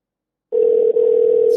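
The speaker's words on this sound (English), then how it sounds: "It's ringing." Telephone ringback tone on an outgoing call: silence, then a loud, steady electronic tone that starts abruptly, with a brief dip partway through and no talk.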